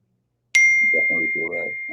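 A single phone notification ding rings out sharply and sustains, with a person talking quietly beneath it.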